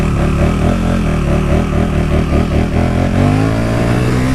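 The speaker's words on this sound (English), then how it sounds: "They like rev the throttle constantly." A motorcycle throttle is blipped again and again at the start of a ride, its revs rising and falling in a quick, steady rhythm before the engine settles into a lower, steadier note near the end.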